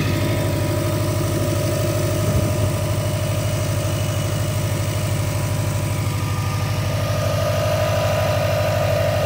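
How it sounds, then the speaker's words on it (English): A 2013 Subaru WRX engine idling, heard from beneath the engine bay: a steady, loud, even rumble with a constant low pulse and no change in speed throughout. "this is how the engine sounds like underneath the engine bay."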